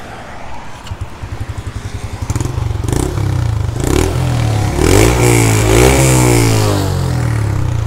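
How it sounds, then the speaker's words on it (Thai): A 2019 Honda Wave 110i small motorcycle engine idles with a rapid putter, then revs up several times, the exhaust rising and falling loudly close by. "สุดท้ายคลิปผมจะมาให้ฟังเสียงท่อผมกันกันนะครับ"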